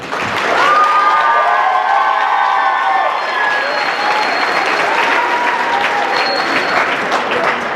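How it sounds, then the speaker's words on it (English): Loud, sustained audience applause with scattered cheers and shouts for a massed choir and band concert by Wapato High School band and choral students, a dense wash of clapping that stays steady from start to finish. "just one more round of applause for both the band students and the choral students"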